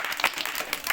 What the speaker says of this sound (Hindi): हितेश के तालियां